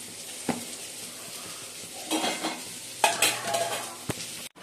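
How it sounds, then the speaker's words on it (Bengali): Fried potatoes in a pan are stirred with a utensil, giving a few scraping and clinking strokes over a faint, low sizzle, close and unaccompanied by voices. "আলু ভাজা হয়ে গেছে"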